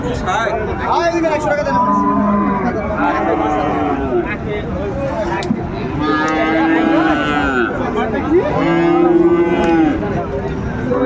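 A Friesian cross bull calf at a Dinajpur cattle market lows several times, loud and close. The drawn-out moos recur throughout over a background of crowd murmur and bargaining voices.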